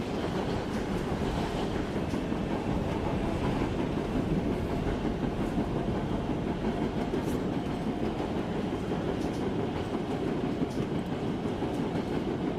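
A New York Alstom subway train in a train simulator game runs at steady speed, with a continuous loud rumble of wheels and rails and faint clickety-clack throughout, no voices.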